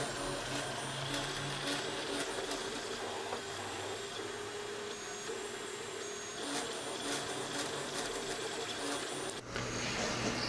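A compact 3D printer printing a part in blue filament, a continuous whirring, buzzing motor hum with rapid stepper chatter that runs steadily throughout, with a short dip near the end.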